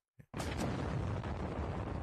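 A short click, then a sudden loud anime explosion blast that rolls on as a dense, rumbling roar.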